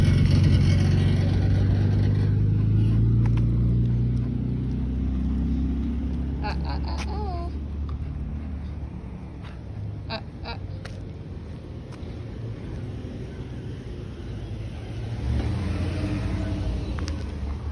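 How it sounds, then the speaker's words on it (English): Steady rumble of cars passing on a nearby road, strongest at the start and swelling again near the end, with a person talking to a dog over the traffic noise. "there's a lot of cars going by down this road here"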